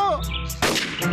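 A single sharp cartoon gunshot bursts out abruptly, loud and broadband, after a short tonal sound, with a brief ringing tail.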